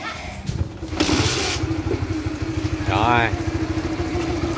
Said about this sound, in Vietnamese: Bây giờ mình sẽ nổ máy lên này.